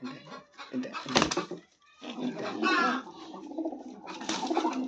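A domestic pigeon kept in a house coos in repeated low, throaty bursts at close range. A person speaks between and over the calls.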